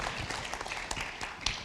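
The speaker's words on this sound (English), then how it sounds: "Audience, please give our youth a huge, great applause." Soft, distant applause from an audience at an anniversary ceremony marking Mexico–US diplomatic relations, honoring young people, with scattered claps in a faint, continuous wash.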